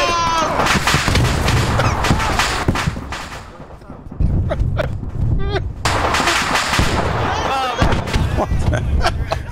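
Explosions and heavy gunfire in a combined-arms military video game roar loudly and continuously, with a brief lull midway, while people talk over voice chat.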